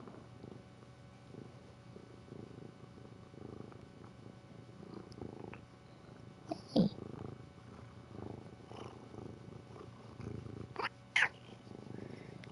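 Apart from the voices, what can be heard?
pet cat purring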